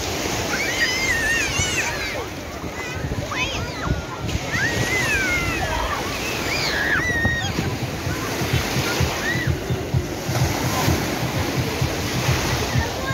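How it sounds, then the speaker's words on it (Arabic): Sea waves roll and wash steadily onto the shore at Saidia beach on Morocco's coast near the Algerian border, a continuous loud surf with wind noise, mixed with distant voices and cries of people nearby. "المهم هذا البحر ديال السعيدية."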